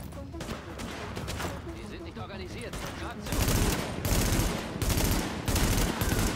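Rapid automatic gunfire in the shooter game The Division, first scattered shots and then a louder sustained burst of fire in the second half, with a voice talking faintly underneath.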